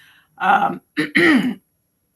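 A person clears their throat in a few rough, close bursts, with short pauses between them.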